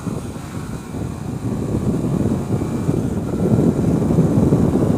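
A Honda Rebel motorcycle at full throttle, its engine a low rumbling drone that builds steadily under rushing wind noise as it accelerates.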